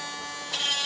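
A Dremel mini grinder fitted with a polishing bit buzzes steadily against a rock, a close, high electric whine that grows slightly louder and harsher partway through the brief moment.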